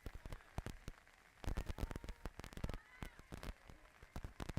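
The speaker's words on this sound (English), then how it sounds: "Still raining" Rain falls at an outdoor girls' varsity softball game, heard as faint, irregular crackling taps, likely drops striking an umbrella, quiet and close with no voices.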